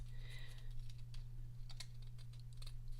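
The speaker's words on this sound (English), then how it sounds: "I'm just going to finish it off with my own scissors." Scissors snip through paper card in a series of short, crisp clicks and rustles, close up and fairly faint over a steady low hum.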